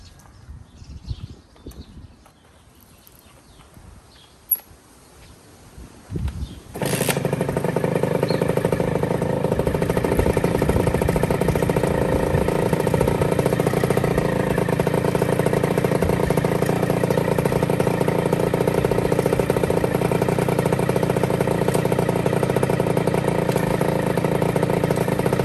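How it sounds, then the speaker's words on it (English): A Kawasaki KX60 dirt bike engine fires up after some quiet handling noises, then settles into a loud, steady, buzzy idle that runs on unbroken to the end. "So I'm gonna start it again for you guys right here."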